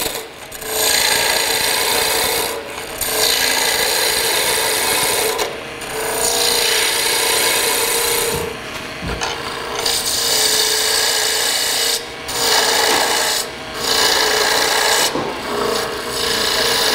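A continental spindle gouge hogs wood off a spinning workpiece on a lathe, producing a loud, steady rasping scrape in long passes broken by brief pauses as the tool lifts away.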